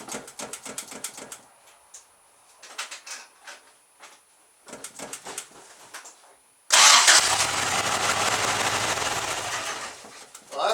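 A 1987 Toyota pickup engine cranks in quick rhythmic bursts with pauses, then catches and runs loudly and steadily after its timing was moved back three teeth, close by.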